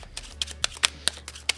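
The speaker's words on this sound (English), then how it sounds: "I will try not to do too much shuffling." Tarot cards being handled and shuffled: a handful of light, separate card snaps and taps close by, over a faint low hum, with no speech.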